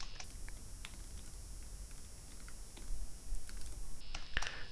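Quiet, steady keystrokes on a computer keyboard while C code is typed, an irregular close patter that thickens toward the end and closes with a firmer tap.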